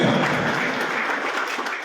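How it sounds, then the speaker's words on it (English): Audience applause at a prize distribution ceremony for a national throwball championship, a steady, dense wash of many hands clapping that holds at an even level throughout. "A due round of applause."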